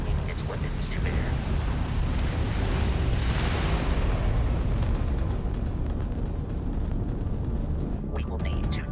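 Crimson Fleet pirate ship weapons fire in the space game Starfield, a dense rumbling barrage of booms and bursts that runs continuously, with a voice talking over it.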